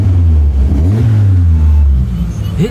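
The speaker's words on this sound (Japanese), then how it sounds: "エンジンもすんなりかかっちゃう" Toyota AE86 Levin, an old car roughly 40 years on, cranks briefly and catches, then settles into a steady, loud nearby idle, with a rising whir toward the end.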